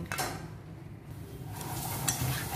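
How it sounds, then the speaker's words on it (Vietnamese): Chopped salmon head pieces are mixed with seasoning, pepper and scallions in a bowl, with scraping and clinking of a utensil against the dish, a couple of sharp knocks, and soft wet stirring at close range. "mình sẽ trộn đều cá lên cho nó thấm gia vị nha"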